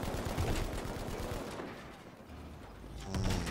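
Rapid bursts of suppressive gunfire rattle out in the video game Battlefield V during desert tank and infantry combat. The dense, overlapping shots are followed by a brief lull and then a heavier cluster of reports.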